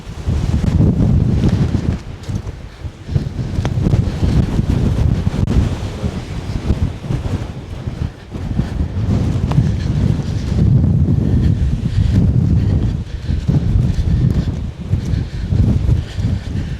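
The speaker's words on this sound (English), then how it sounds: "I'm hoping the trees give me a bit of a break now from this wind." Strong wind roars continuously into the microphone, a dense, buffeting rumble with gusts swelling and easing throughout, no voices.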